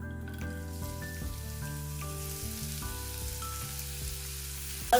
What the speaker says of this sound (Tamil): எண்ணெய் நல்லா சூடேறிட்டு இதுக்குள்ள நான் வெட்டி வச்சிருக்கிற வெங்காயத்தை போட போறேன்